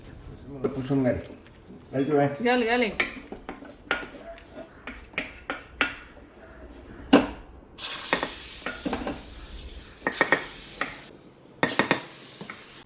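Date payasa mixture stirred by hand in a pot, with soft scraping and sloshing strokes in irregular bursts, some hissing sizzle in the latter half, and a person talking over much of it.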